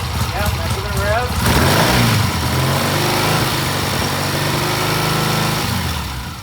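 A small engine revs steadily after a carburetor or idle adjustment, holding a sustained raised pitch for several seconds before easing off, close and loud with people talking alongside.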